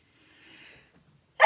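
A single close sneeze: a soft, breathy intake, a brief pause, then a sudden loud burst at the very end.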